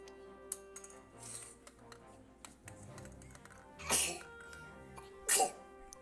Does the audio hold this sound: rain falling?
no